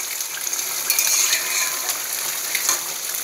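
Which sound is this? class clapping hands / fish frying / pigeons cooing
fish frying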